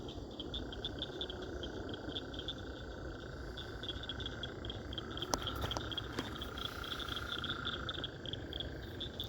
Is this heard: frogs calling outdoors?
yes